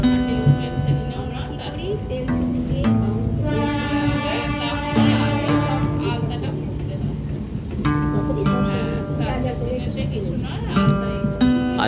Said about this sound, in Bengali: ট্রেন অতি ধীরে যাচ্ছে, খুব আস্তে আস্তে ট্রেনটা যাচ্ছে